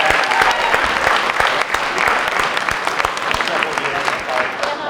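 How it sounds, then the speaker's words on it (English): A big round of applause from a senior banquet audience, dense clapping with sharp individual claps standing out, continuous for several seconds. "how about another huge round of applause for Haley and Hildy?"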